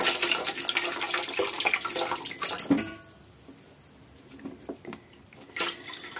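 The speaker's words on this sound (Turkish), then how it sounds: "Şöyle gördüğünüz gibi suyunu döktük." Bitter green water being poured off soaking olives: a loud close gush of pouring water that cuts off partway, followed by scattered drips and trickles.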